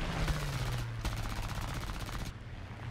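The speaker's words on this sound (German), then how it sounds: "Buddy schießt auf ihn. Wir schießen auf ihn." A biplane's machine guns in War Thunder, an I-15bis dogfight, rattle in rapid continuous bursts that break off briefly and then resume, loud and close over the droning engine.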